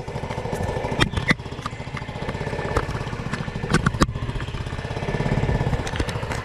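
A Honda Ruckus scooter idles while warming up, its small engine putting out a steady close putter with a few sharp knocks and clicks, heard alone without talk.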